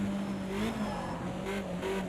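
A BMW 2002 Turbo race car engine drones steadily in Project CARS 2 at Bathurst, a constant mid-pitched hum with faint tire noise underneath, no talk present.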